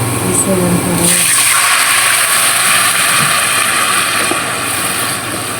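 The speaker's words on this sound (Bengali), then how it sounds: "এখন আমি এখানে হালকা পানি দিব।" Water splashes into a hot pan of browned onions for chicken bhuna, setting off a loud, continuous hiss that holds steady throughout, with a faint voice near the start.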